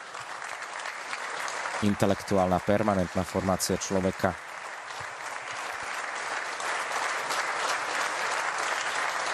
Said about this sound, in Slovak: Potleskom vítajú svätého otca